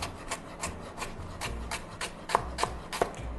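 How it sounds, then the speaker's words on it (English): A knife chops fresh herbs on a cutting board for Vietnamese spring rolls, giving soft, steady, close rhythmic taps with a few crisper knocks near the end. "So I'm going to chop them all up so you can see."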